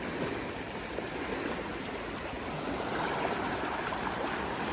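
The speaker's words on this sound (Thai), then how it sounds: "นี่คือน้ำตก" Rushing water pours continuously over a waterfall on a small creek, a broad steady roar that swells a little toward the end, with no voices.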